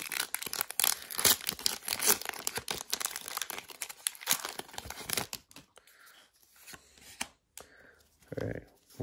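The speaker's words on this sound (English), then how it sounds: "it's really hard to open packs after you cut your nails" Pokémon card booster pack wrappers crinkle and tear in close, busy bursts as packs are opened, with quieter rustling and handling sounds trailing off toward the end.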